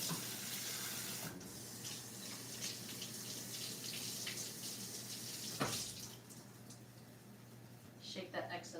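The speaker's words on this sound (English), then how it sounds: "we're gonna do a quick rinse" A kitchen tap runs steadily to rinse parsley, a constant wash of water beneath talking, with a few splashes and clatters toward the end.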